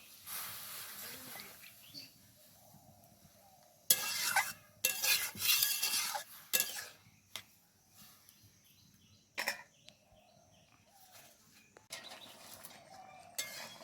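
A spoon scrapes and clatters against a pot while pumpkin greens and masoor dal are stirred in, irregular bursts of metallic scraping separated by quieter pauses with a faint simmer underneath.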